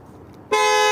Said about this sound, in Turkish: İki kez kilitlediğinizde kornalı bildirim yapıyor.